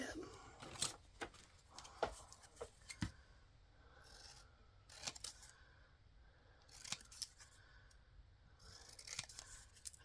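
Scissors snipping through paper while making journal pockets, a run of short, crisp cuts in irregular bursts across the clip, close and fairly quiet, with some handling rustle between snips.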